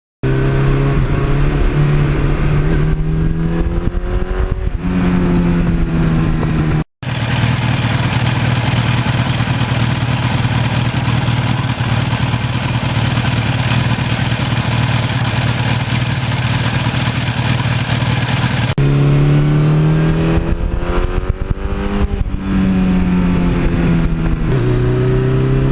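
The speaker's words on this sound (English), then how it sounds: "you got that nice rumbly sound, much nicer than a stock exhaust" A 1982 Suzuki GS1100E motorcycle with an aftermarket exhaust revs up and down with a deep, loud rumble, settles into a steady drone, then revs again, close by.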